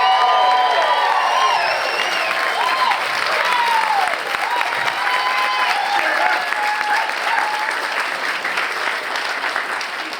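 A crowd applauds steadily and loudly throughout, with scattered cheers and whoops rising above the clapping, fading slightly toward the end.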